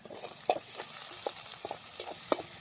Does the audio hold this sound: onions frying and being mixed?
yes